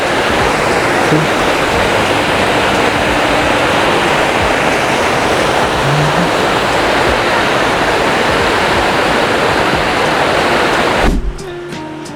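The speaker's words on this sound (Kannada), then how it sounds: "ನೋಡಿ, ನೀರಿನ ರಭಸ ಫುಲ್ಲು ಗ್ರ್ಯಾಂಡಾಗಿ ಬರ್ತೈತೆ." Gollara Doddi waterfall sends a steady, loud roar of rushing water that fills the whole scene without a break, then drops away abruptly near the end.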